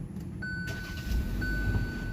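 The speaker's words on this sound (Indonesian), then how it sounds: "tekan start stop engine button yang ada di sebelah kanan sini untuk menyalakan" A Kia Sonet 1.5 engine starting at the push of a start-stop button, heard from the cabin as a steady low hum that settles into a smooth, quiet idle with a faint whine above it.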